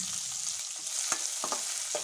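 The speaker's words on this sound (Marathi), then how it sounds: "आता आपण यामध्ये टाकणार आहोत आपला हिरवा कांदा" Green onion hits a hot pan of masala oats cooking in a little oil, giving a steady close sizzling hiss with a few sharp crackles and stirring scrapes throughout.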